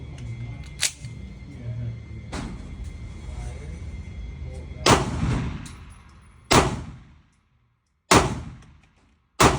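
Sig P365 X-Macro pistol fired at 3 yards on a range: five sharp, loud shots spaced a second or two apart, each ringing out briefly, with talking under the earlier part.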